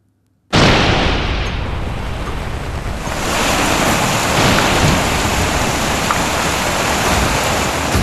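Heavy monsoon rain pours down in a dense, loud, steady roar after an abrupt start, swelling slightly and continuing without pause, with no voices.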